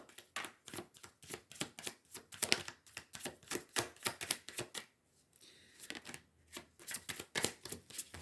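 Tarot cards are handled, shuffled and drawn up close, a rapid series of crisp flicks and snaps in quick bursts, with a brief pause midway before the handling resumes.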